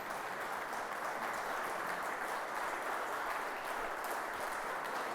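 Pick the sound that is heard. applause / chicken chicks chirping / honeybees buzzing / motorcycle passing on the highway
applause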